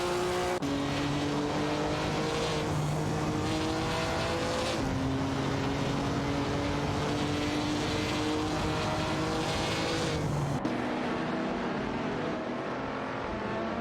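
Race cars in a racing video game roar past one another, engine notes rising and shifting steadily through several passes, loud and continuous without pause, with no voices.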